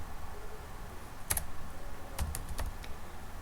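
Typing on a computer keyboard while entering an SQL statement: a few close, quiet key clicks, some in a quick cluster, with no talk.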